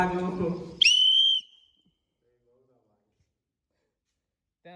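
A voice speaks, then a single sharp, high whistle sounds for about half a second, followed by near silence.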